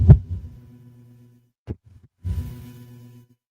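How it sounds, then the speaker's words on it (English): Synthetic heartbeat effect with deep, booming thumps: a strong beat, a lingering hum, then a sharp thump and another swelling beat with a fading tail, loud and close with no voices. "I got the heartbeat."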